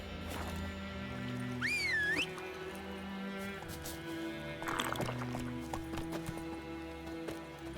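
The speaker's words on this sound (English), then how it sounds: "we'll hop on my horse and ride to the next location." A horse's hooves clip-clop steadily while riding in The Witcher 3: Wild Hunt, with a brief whinny and a sweeping whistle-like tone over low background music.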